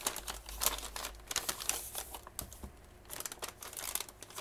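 Polyethylene bag from an online-store parcel, crinkled and rustled by hand while a Thermaltake S100 RAM RGB lighting kit is unboxed, giving quiet close-up bursts of crackling with brief pauses and no talk.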